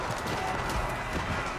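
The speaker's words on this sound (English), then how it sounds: "Horse archers activate gallop there." Horse archers gallop during an Age of Empires 4 battle between Ottoman and Rus armies, a dense, continuous patter of hoofbeats mixed with battle noise, with a voice faintly underneath.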